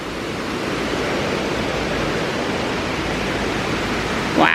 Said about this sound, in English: But this river is much more fun over here because it's, you know, faster moving, the rocks